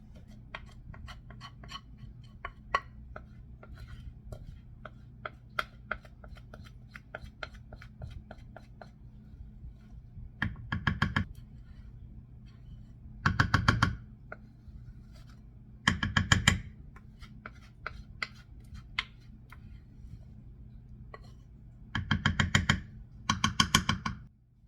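A spatula scrapes blueberry cobbler batter from a bowl, giving soft close scratching strokes, with several louder bursts of scraping and clinking standing out against a quiet background.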